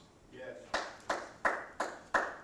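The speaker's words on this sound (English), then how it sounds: "Thank you for that clap" A single person claps five times in an even, unhurried rhythm during a home improvement teaching session; each clap is sharp, close and moderately loud, with a brief lower murmur just before the first one.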